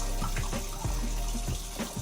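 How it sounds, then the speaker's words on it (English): Tap water runs steadily into a kitchen sink where pans sit soaking, a continuous rushing pour with small clinks, close by and fairly loud, with no voices. "So it just makes sense to fill it up with water and dump it in here."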